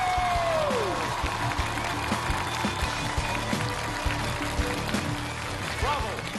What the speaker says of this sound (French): Alors applaudissons chaleureusement Freddie Nock.